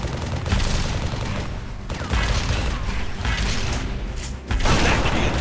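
Sustained gunfire and explosions from the Halo Custom Edition video game, with bursts of shots and booms rolling continuously across the whole stretch, loud and dense with no pauses.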